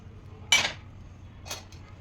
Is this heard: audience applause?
no